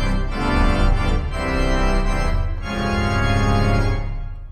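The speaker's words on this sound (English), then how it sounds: "Swell to swell 16-foot coupler." Hybrid pipe and digital organ in a Presbyterian church, its swell division sounding with the 16-foot coupler: a loud, dense sustained chord with low reinforcement, shifting through a few chord changes and holding steady with no voices.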